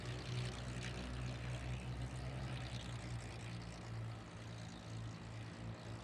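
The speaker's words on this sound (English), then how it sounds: "barrel lying on its side out there, Thom, flying the P-40 Warhawk around the outside of that barrel." A P-40 Warhawk propeller warbird performing aerobatics at an air show, its engine a steady, distant droning roar that holds throughout without pause.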